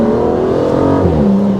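An Aston Martin DBS Ultimate 770's big engine pulls hard, a loud, smooth droning growl whose pitch sweeps upward and then shifts, heard steadily from inside or nearby with no voices.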